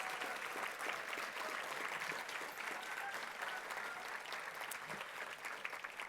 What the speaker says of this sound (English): Let's give everyone standing a round of applause.